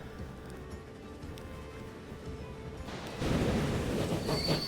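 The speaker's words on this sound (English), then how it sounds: "And so we're going to ride on it all the way back to Fort William." Steam-era train in the 19th-century setting of Transport Fever 2, rolling along the rails with a steady low rumble that swells louder and rougher toward the end, joined by faint wheel noise. No one speaks.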